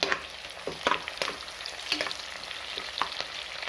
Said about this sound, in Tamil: ஒரே ஒரு பச்சை மிளகா சேர்த்துருக்கேன் இது நல்லா வதங்கட்டுங்க